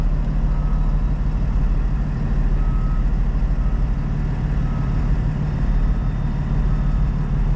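Heavy engine rumble dominates, loud and steady, with a faint repeating reverse beep over it as a red forklift backs up near a delivery trailer, no talking.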